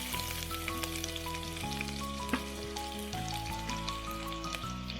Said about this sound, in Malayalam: ഇനി നമുക്ക് ഓണിയൻ ആഡ് ചെയ്ത് കൊടുക്കാം കേട്ടോ.